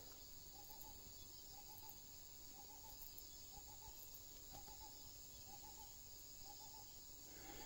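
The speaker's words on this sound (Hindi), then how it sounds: "ये to to to to to to जो आ रही है, ये उल्लू की आवाज़ है।" An owl hoots repeatedly at night in a forest in Jun, short clustered calls recurring about every half second to a second, faint and distant, over a steady bed of cricket and insect buzz.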